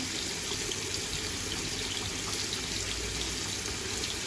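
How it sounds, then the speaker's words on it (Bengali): Water poured into a pot of dal during home cooking, a steady close splashing pour with a broad watery rush that runs without pause for a few seconds and no talk. "পানি দিয়ে দিলাম"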